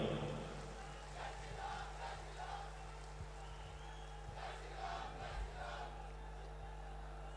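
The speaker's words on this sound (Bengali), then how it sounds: "সবাই মিলে যারা আছেন একটা জোরে করতালি" A large rally crowd in Agartala, Tripura, welcoming Prime Minister Narendra Modi: a steady, fairly faint roar of massed voices and cheering with scattered claps, holding through the whole stretch.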